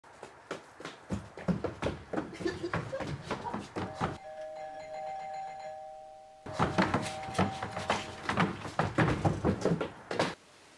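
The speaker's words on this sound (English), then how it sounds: "Is that the doorbell?" A doorbell chimes for a couple of seconds with sustained ringing tones, set between stretches of loud, busy talking and clattering sounds.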